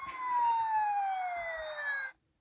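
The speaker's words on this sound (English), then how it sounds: "And then there's the siren again." A Transformers Robots in Disguise 2000 Optimus Prime toy plays a siren: an electronic wail whose pitch slides steadily downward for about two seconds and then cuts off abruptly.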